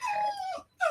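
Dogs whimpering nearby in a room, two high, drawn-out whining cries separated by a brief pause, clear and alone without talking.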